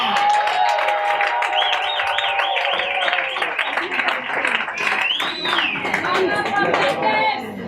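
Audience applause and cheering greet a performer as she joins the host on stage at her career anniversary celebration, a steady loud burst of clapping with whoops and a voice singing over it, running throughout.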